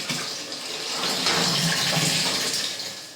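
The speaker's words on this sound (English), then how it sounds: "I'm filling my kettle with 39 litres of water" A home brewing kettle fills with 39 litres of water for an all-grain summer ale, a continuous loud rushing pour that holds steady before easing off slightly at the end, with no talk.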